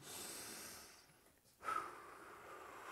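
A single deep, soft breath, drawn in to calm down, is heard in an otherwise quiet, hushed space.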